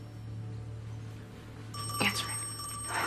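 A telephone rings with a bright trilling bell, one burst starting midway through a quiet room with a low background hum, followed by another ring building at the end.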